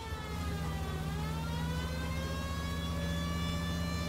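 A police car siren in the video game L.A. Noire, a steady wailing tone with rising harmonics held over a low engine rumble, fairly faint and continuous with no talk.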